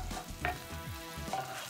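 Garlic and ginger frying in a pan for butter chicken, a close, soft sizzle with a few stirring scrapes of a utensil and no talk.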